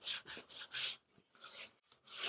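Varnish is sanded off wood by hand in rapid back-and-forth strokes, a sharp abrasive rasping that comes in close, even bursts with short pauses between them.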